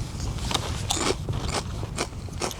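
Crunchy, salty dried fish snack being chewed outdoors on a windy mountain hike, a run of close, crisp crunches repeating steadily over a breezy background.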